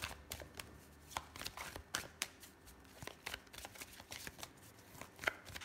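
Oracle cards being shuffled by hand, a run of soft papery riffles and flicks with sharp rustling bursts, close and fairly quiet, with no talking.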